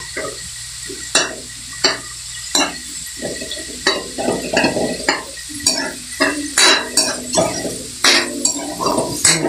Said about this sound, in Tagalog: sibuyas muna kasi mas matagal maluto yung sibuyas.